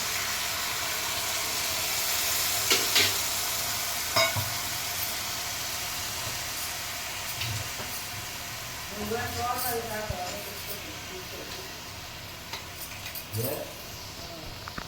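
Green chillies and curry leaves fry in a pan with a soft, steady hiss and sizzle, while someone talks intermittently over it.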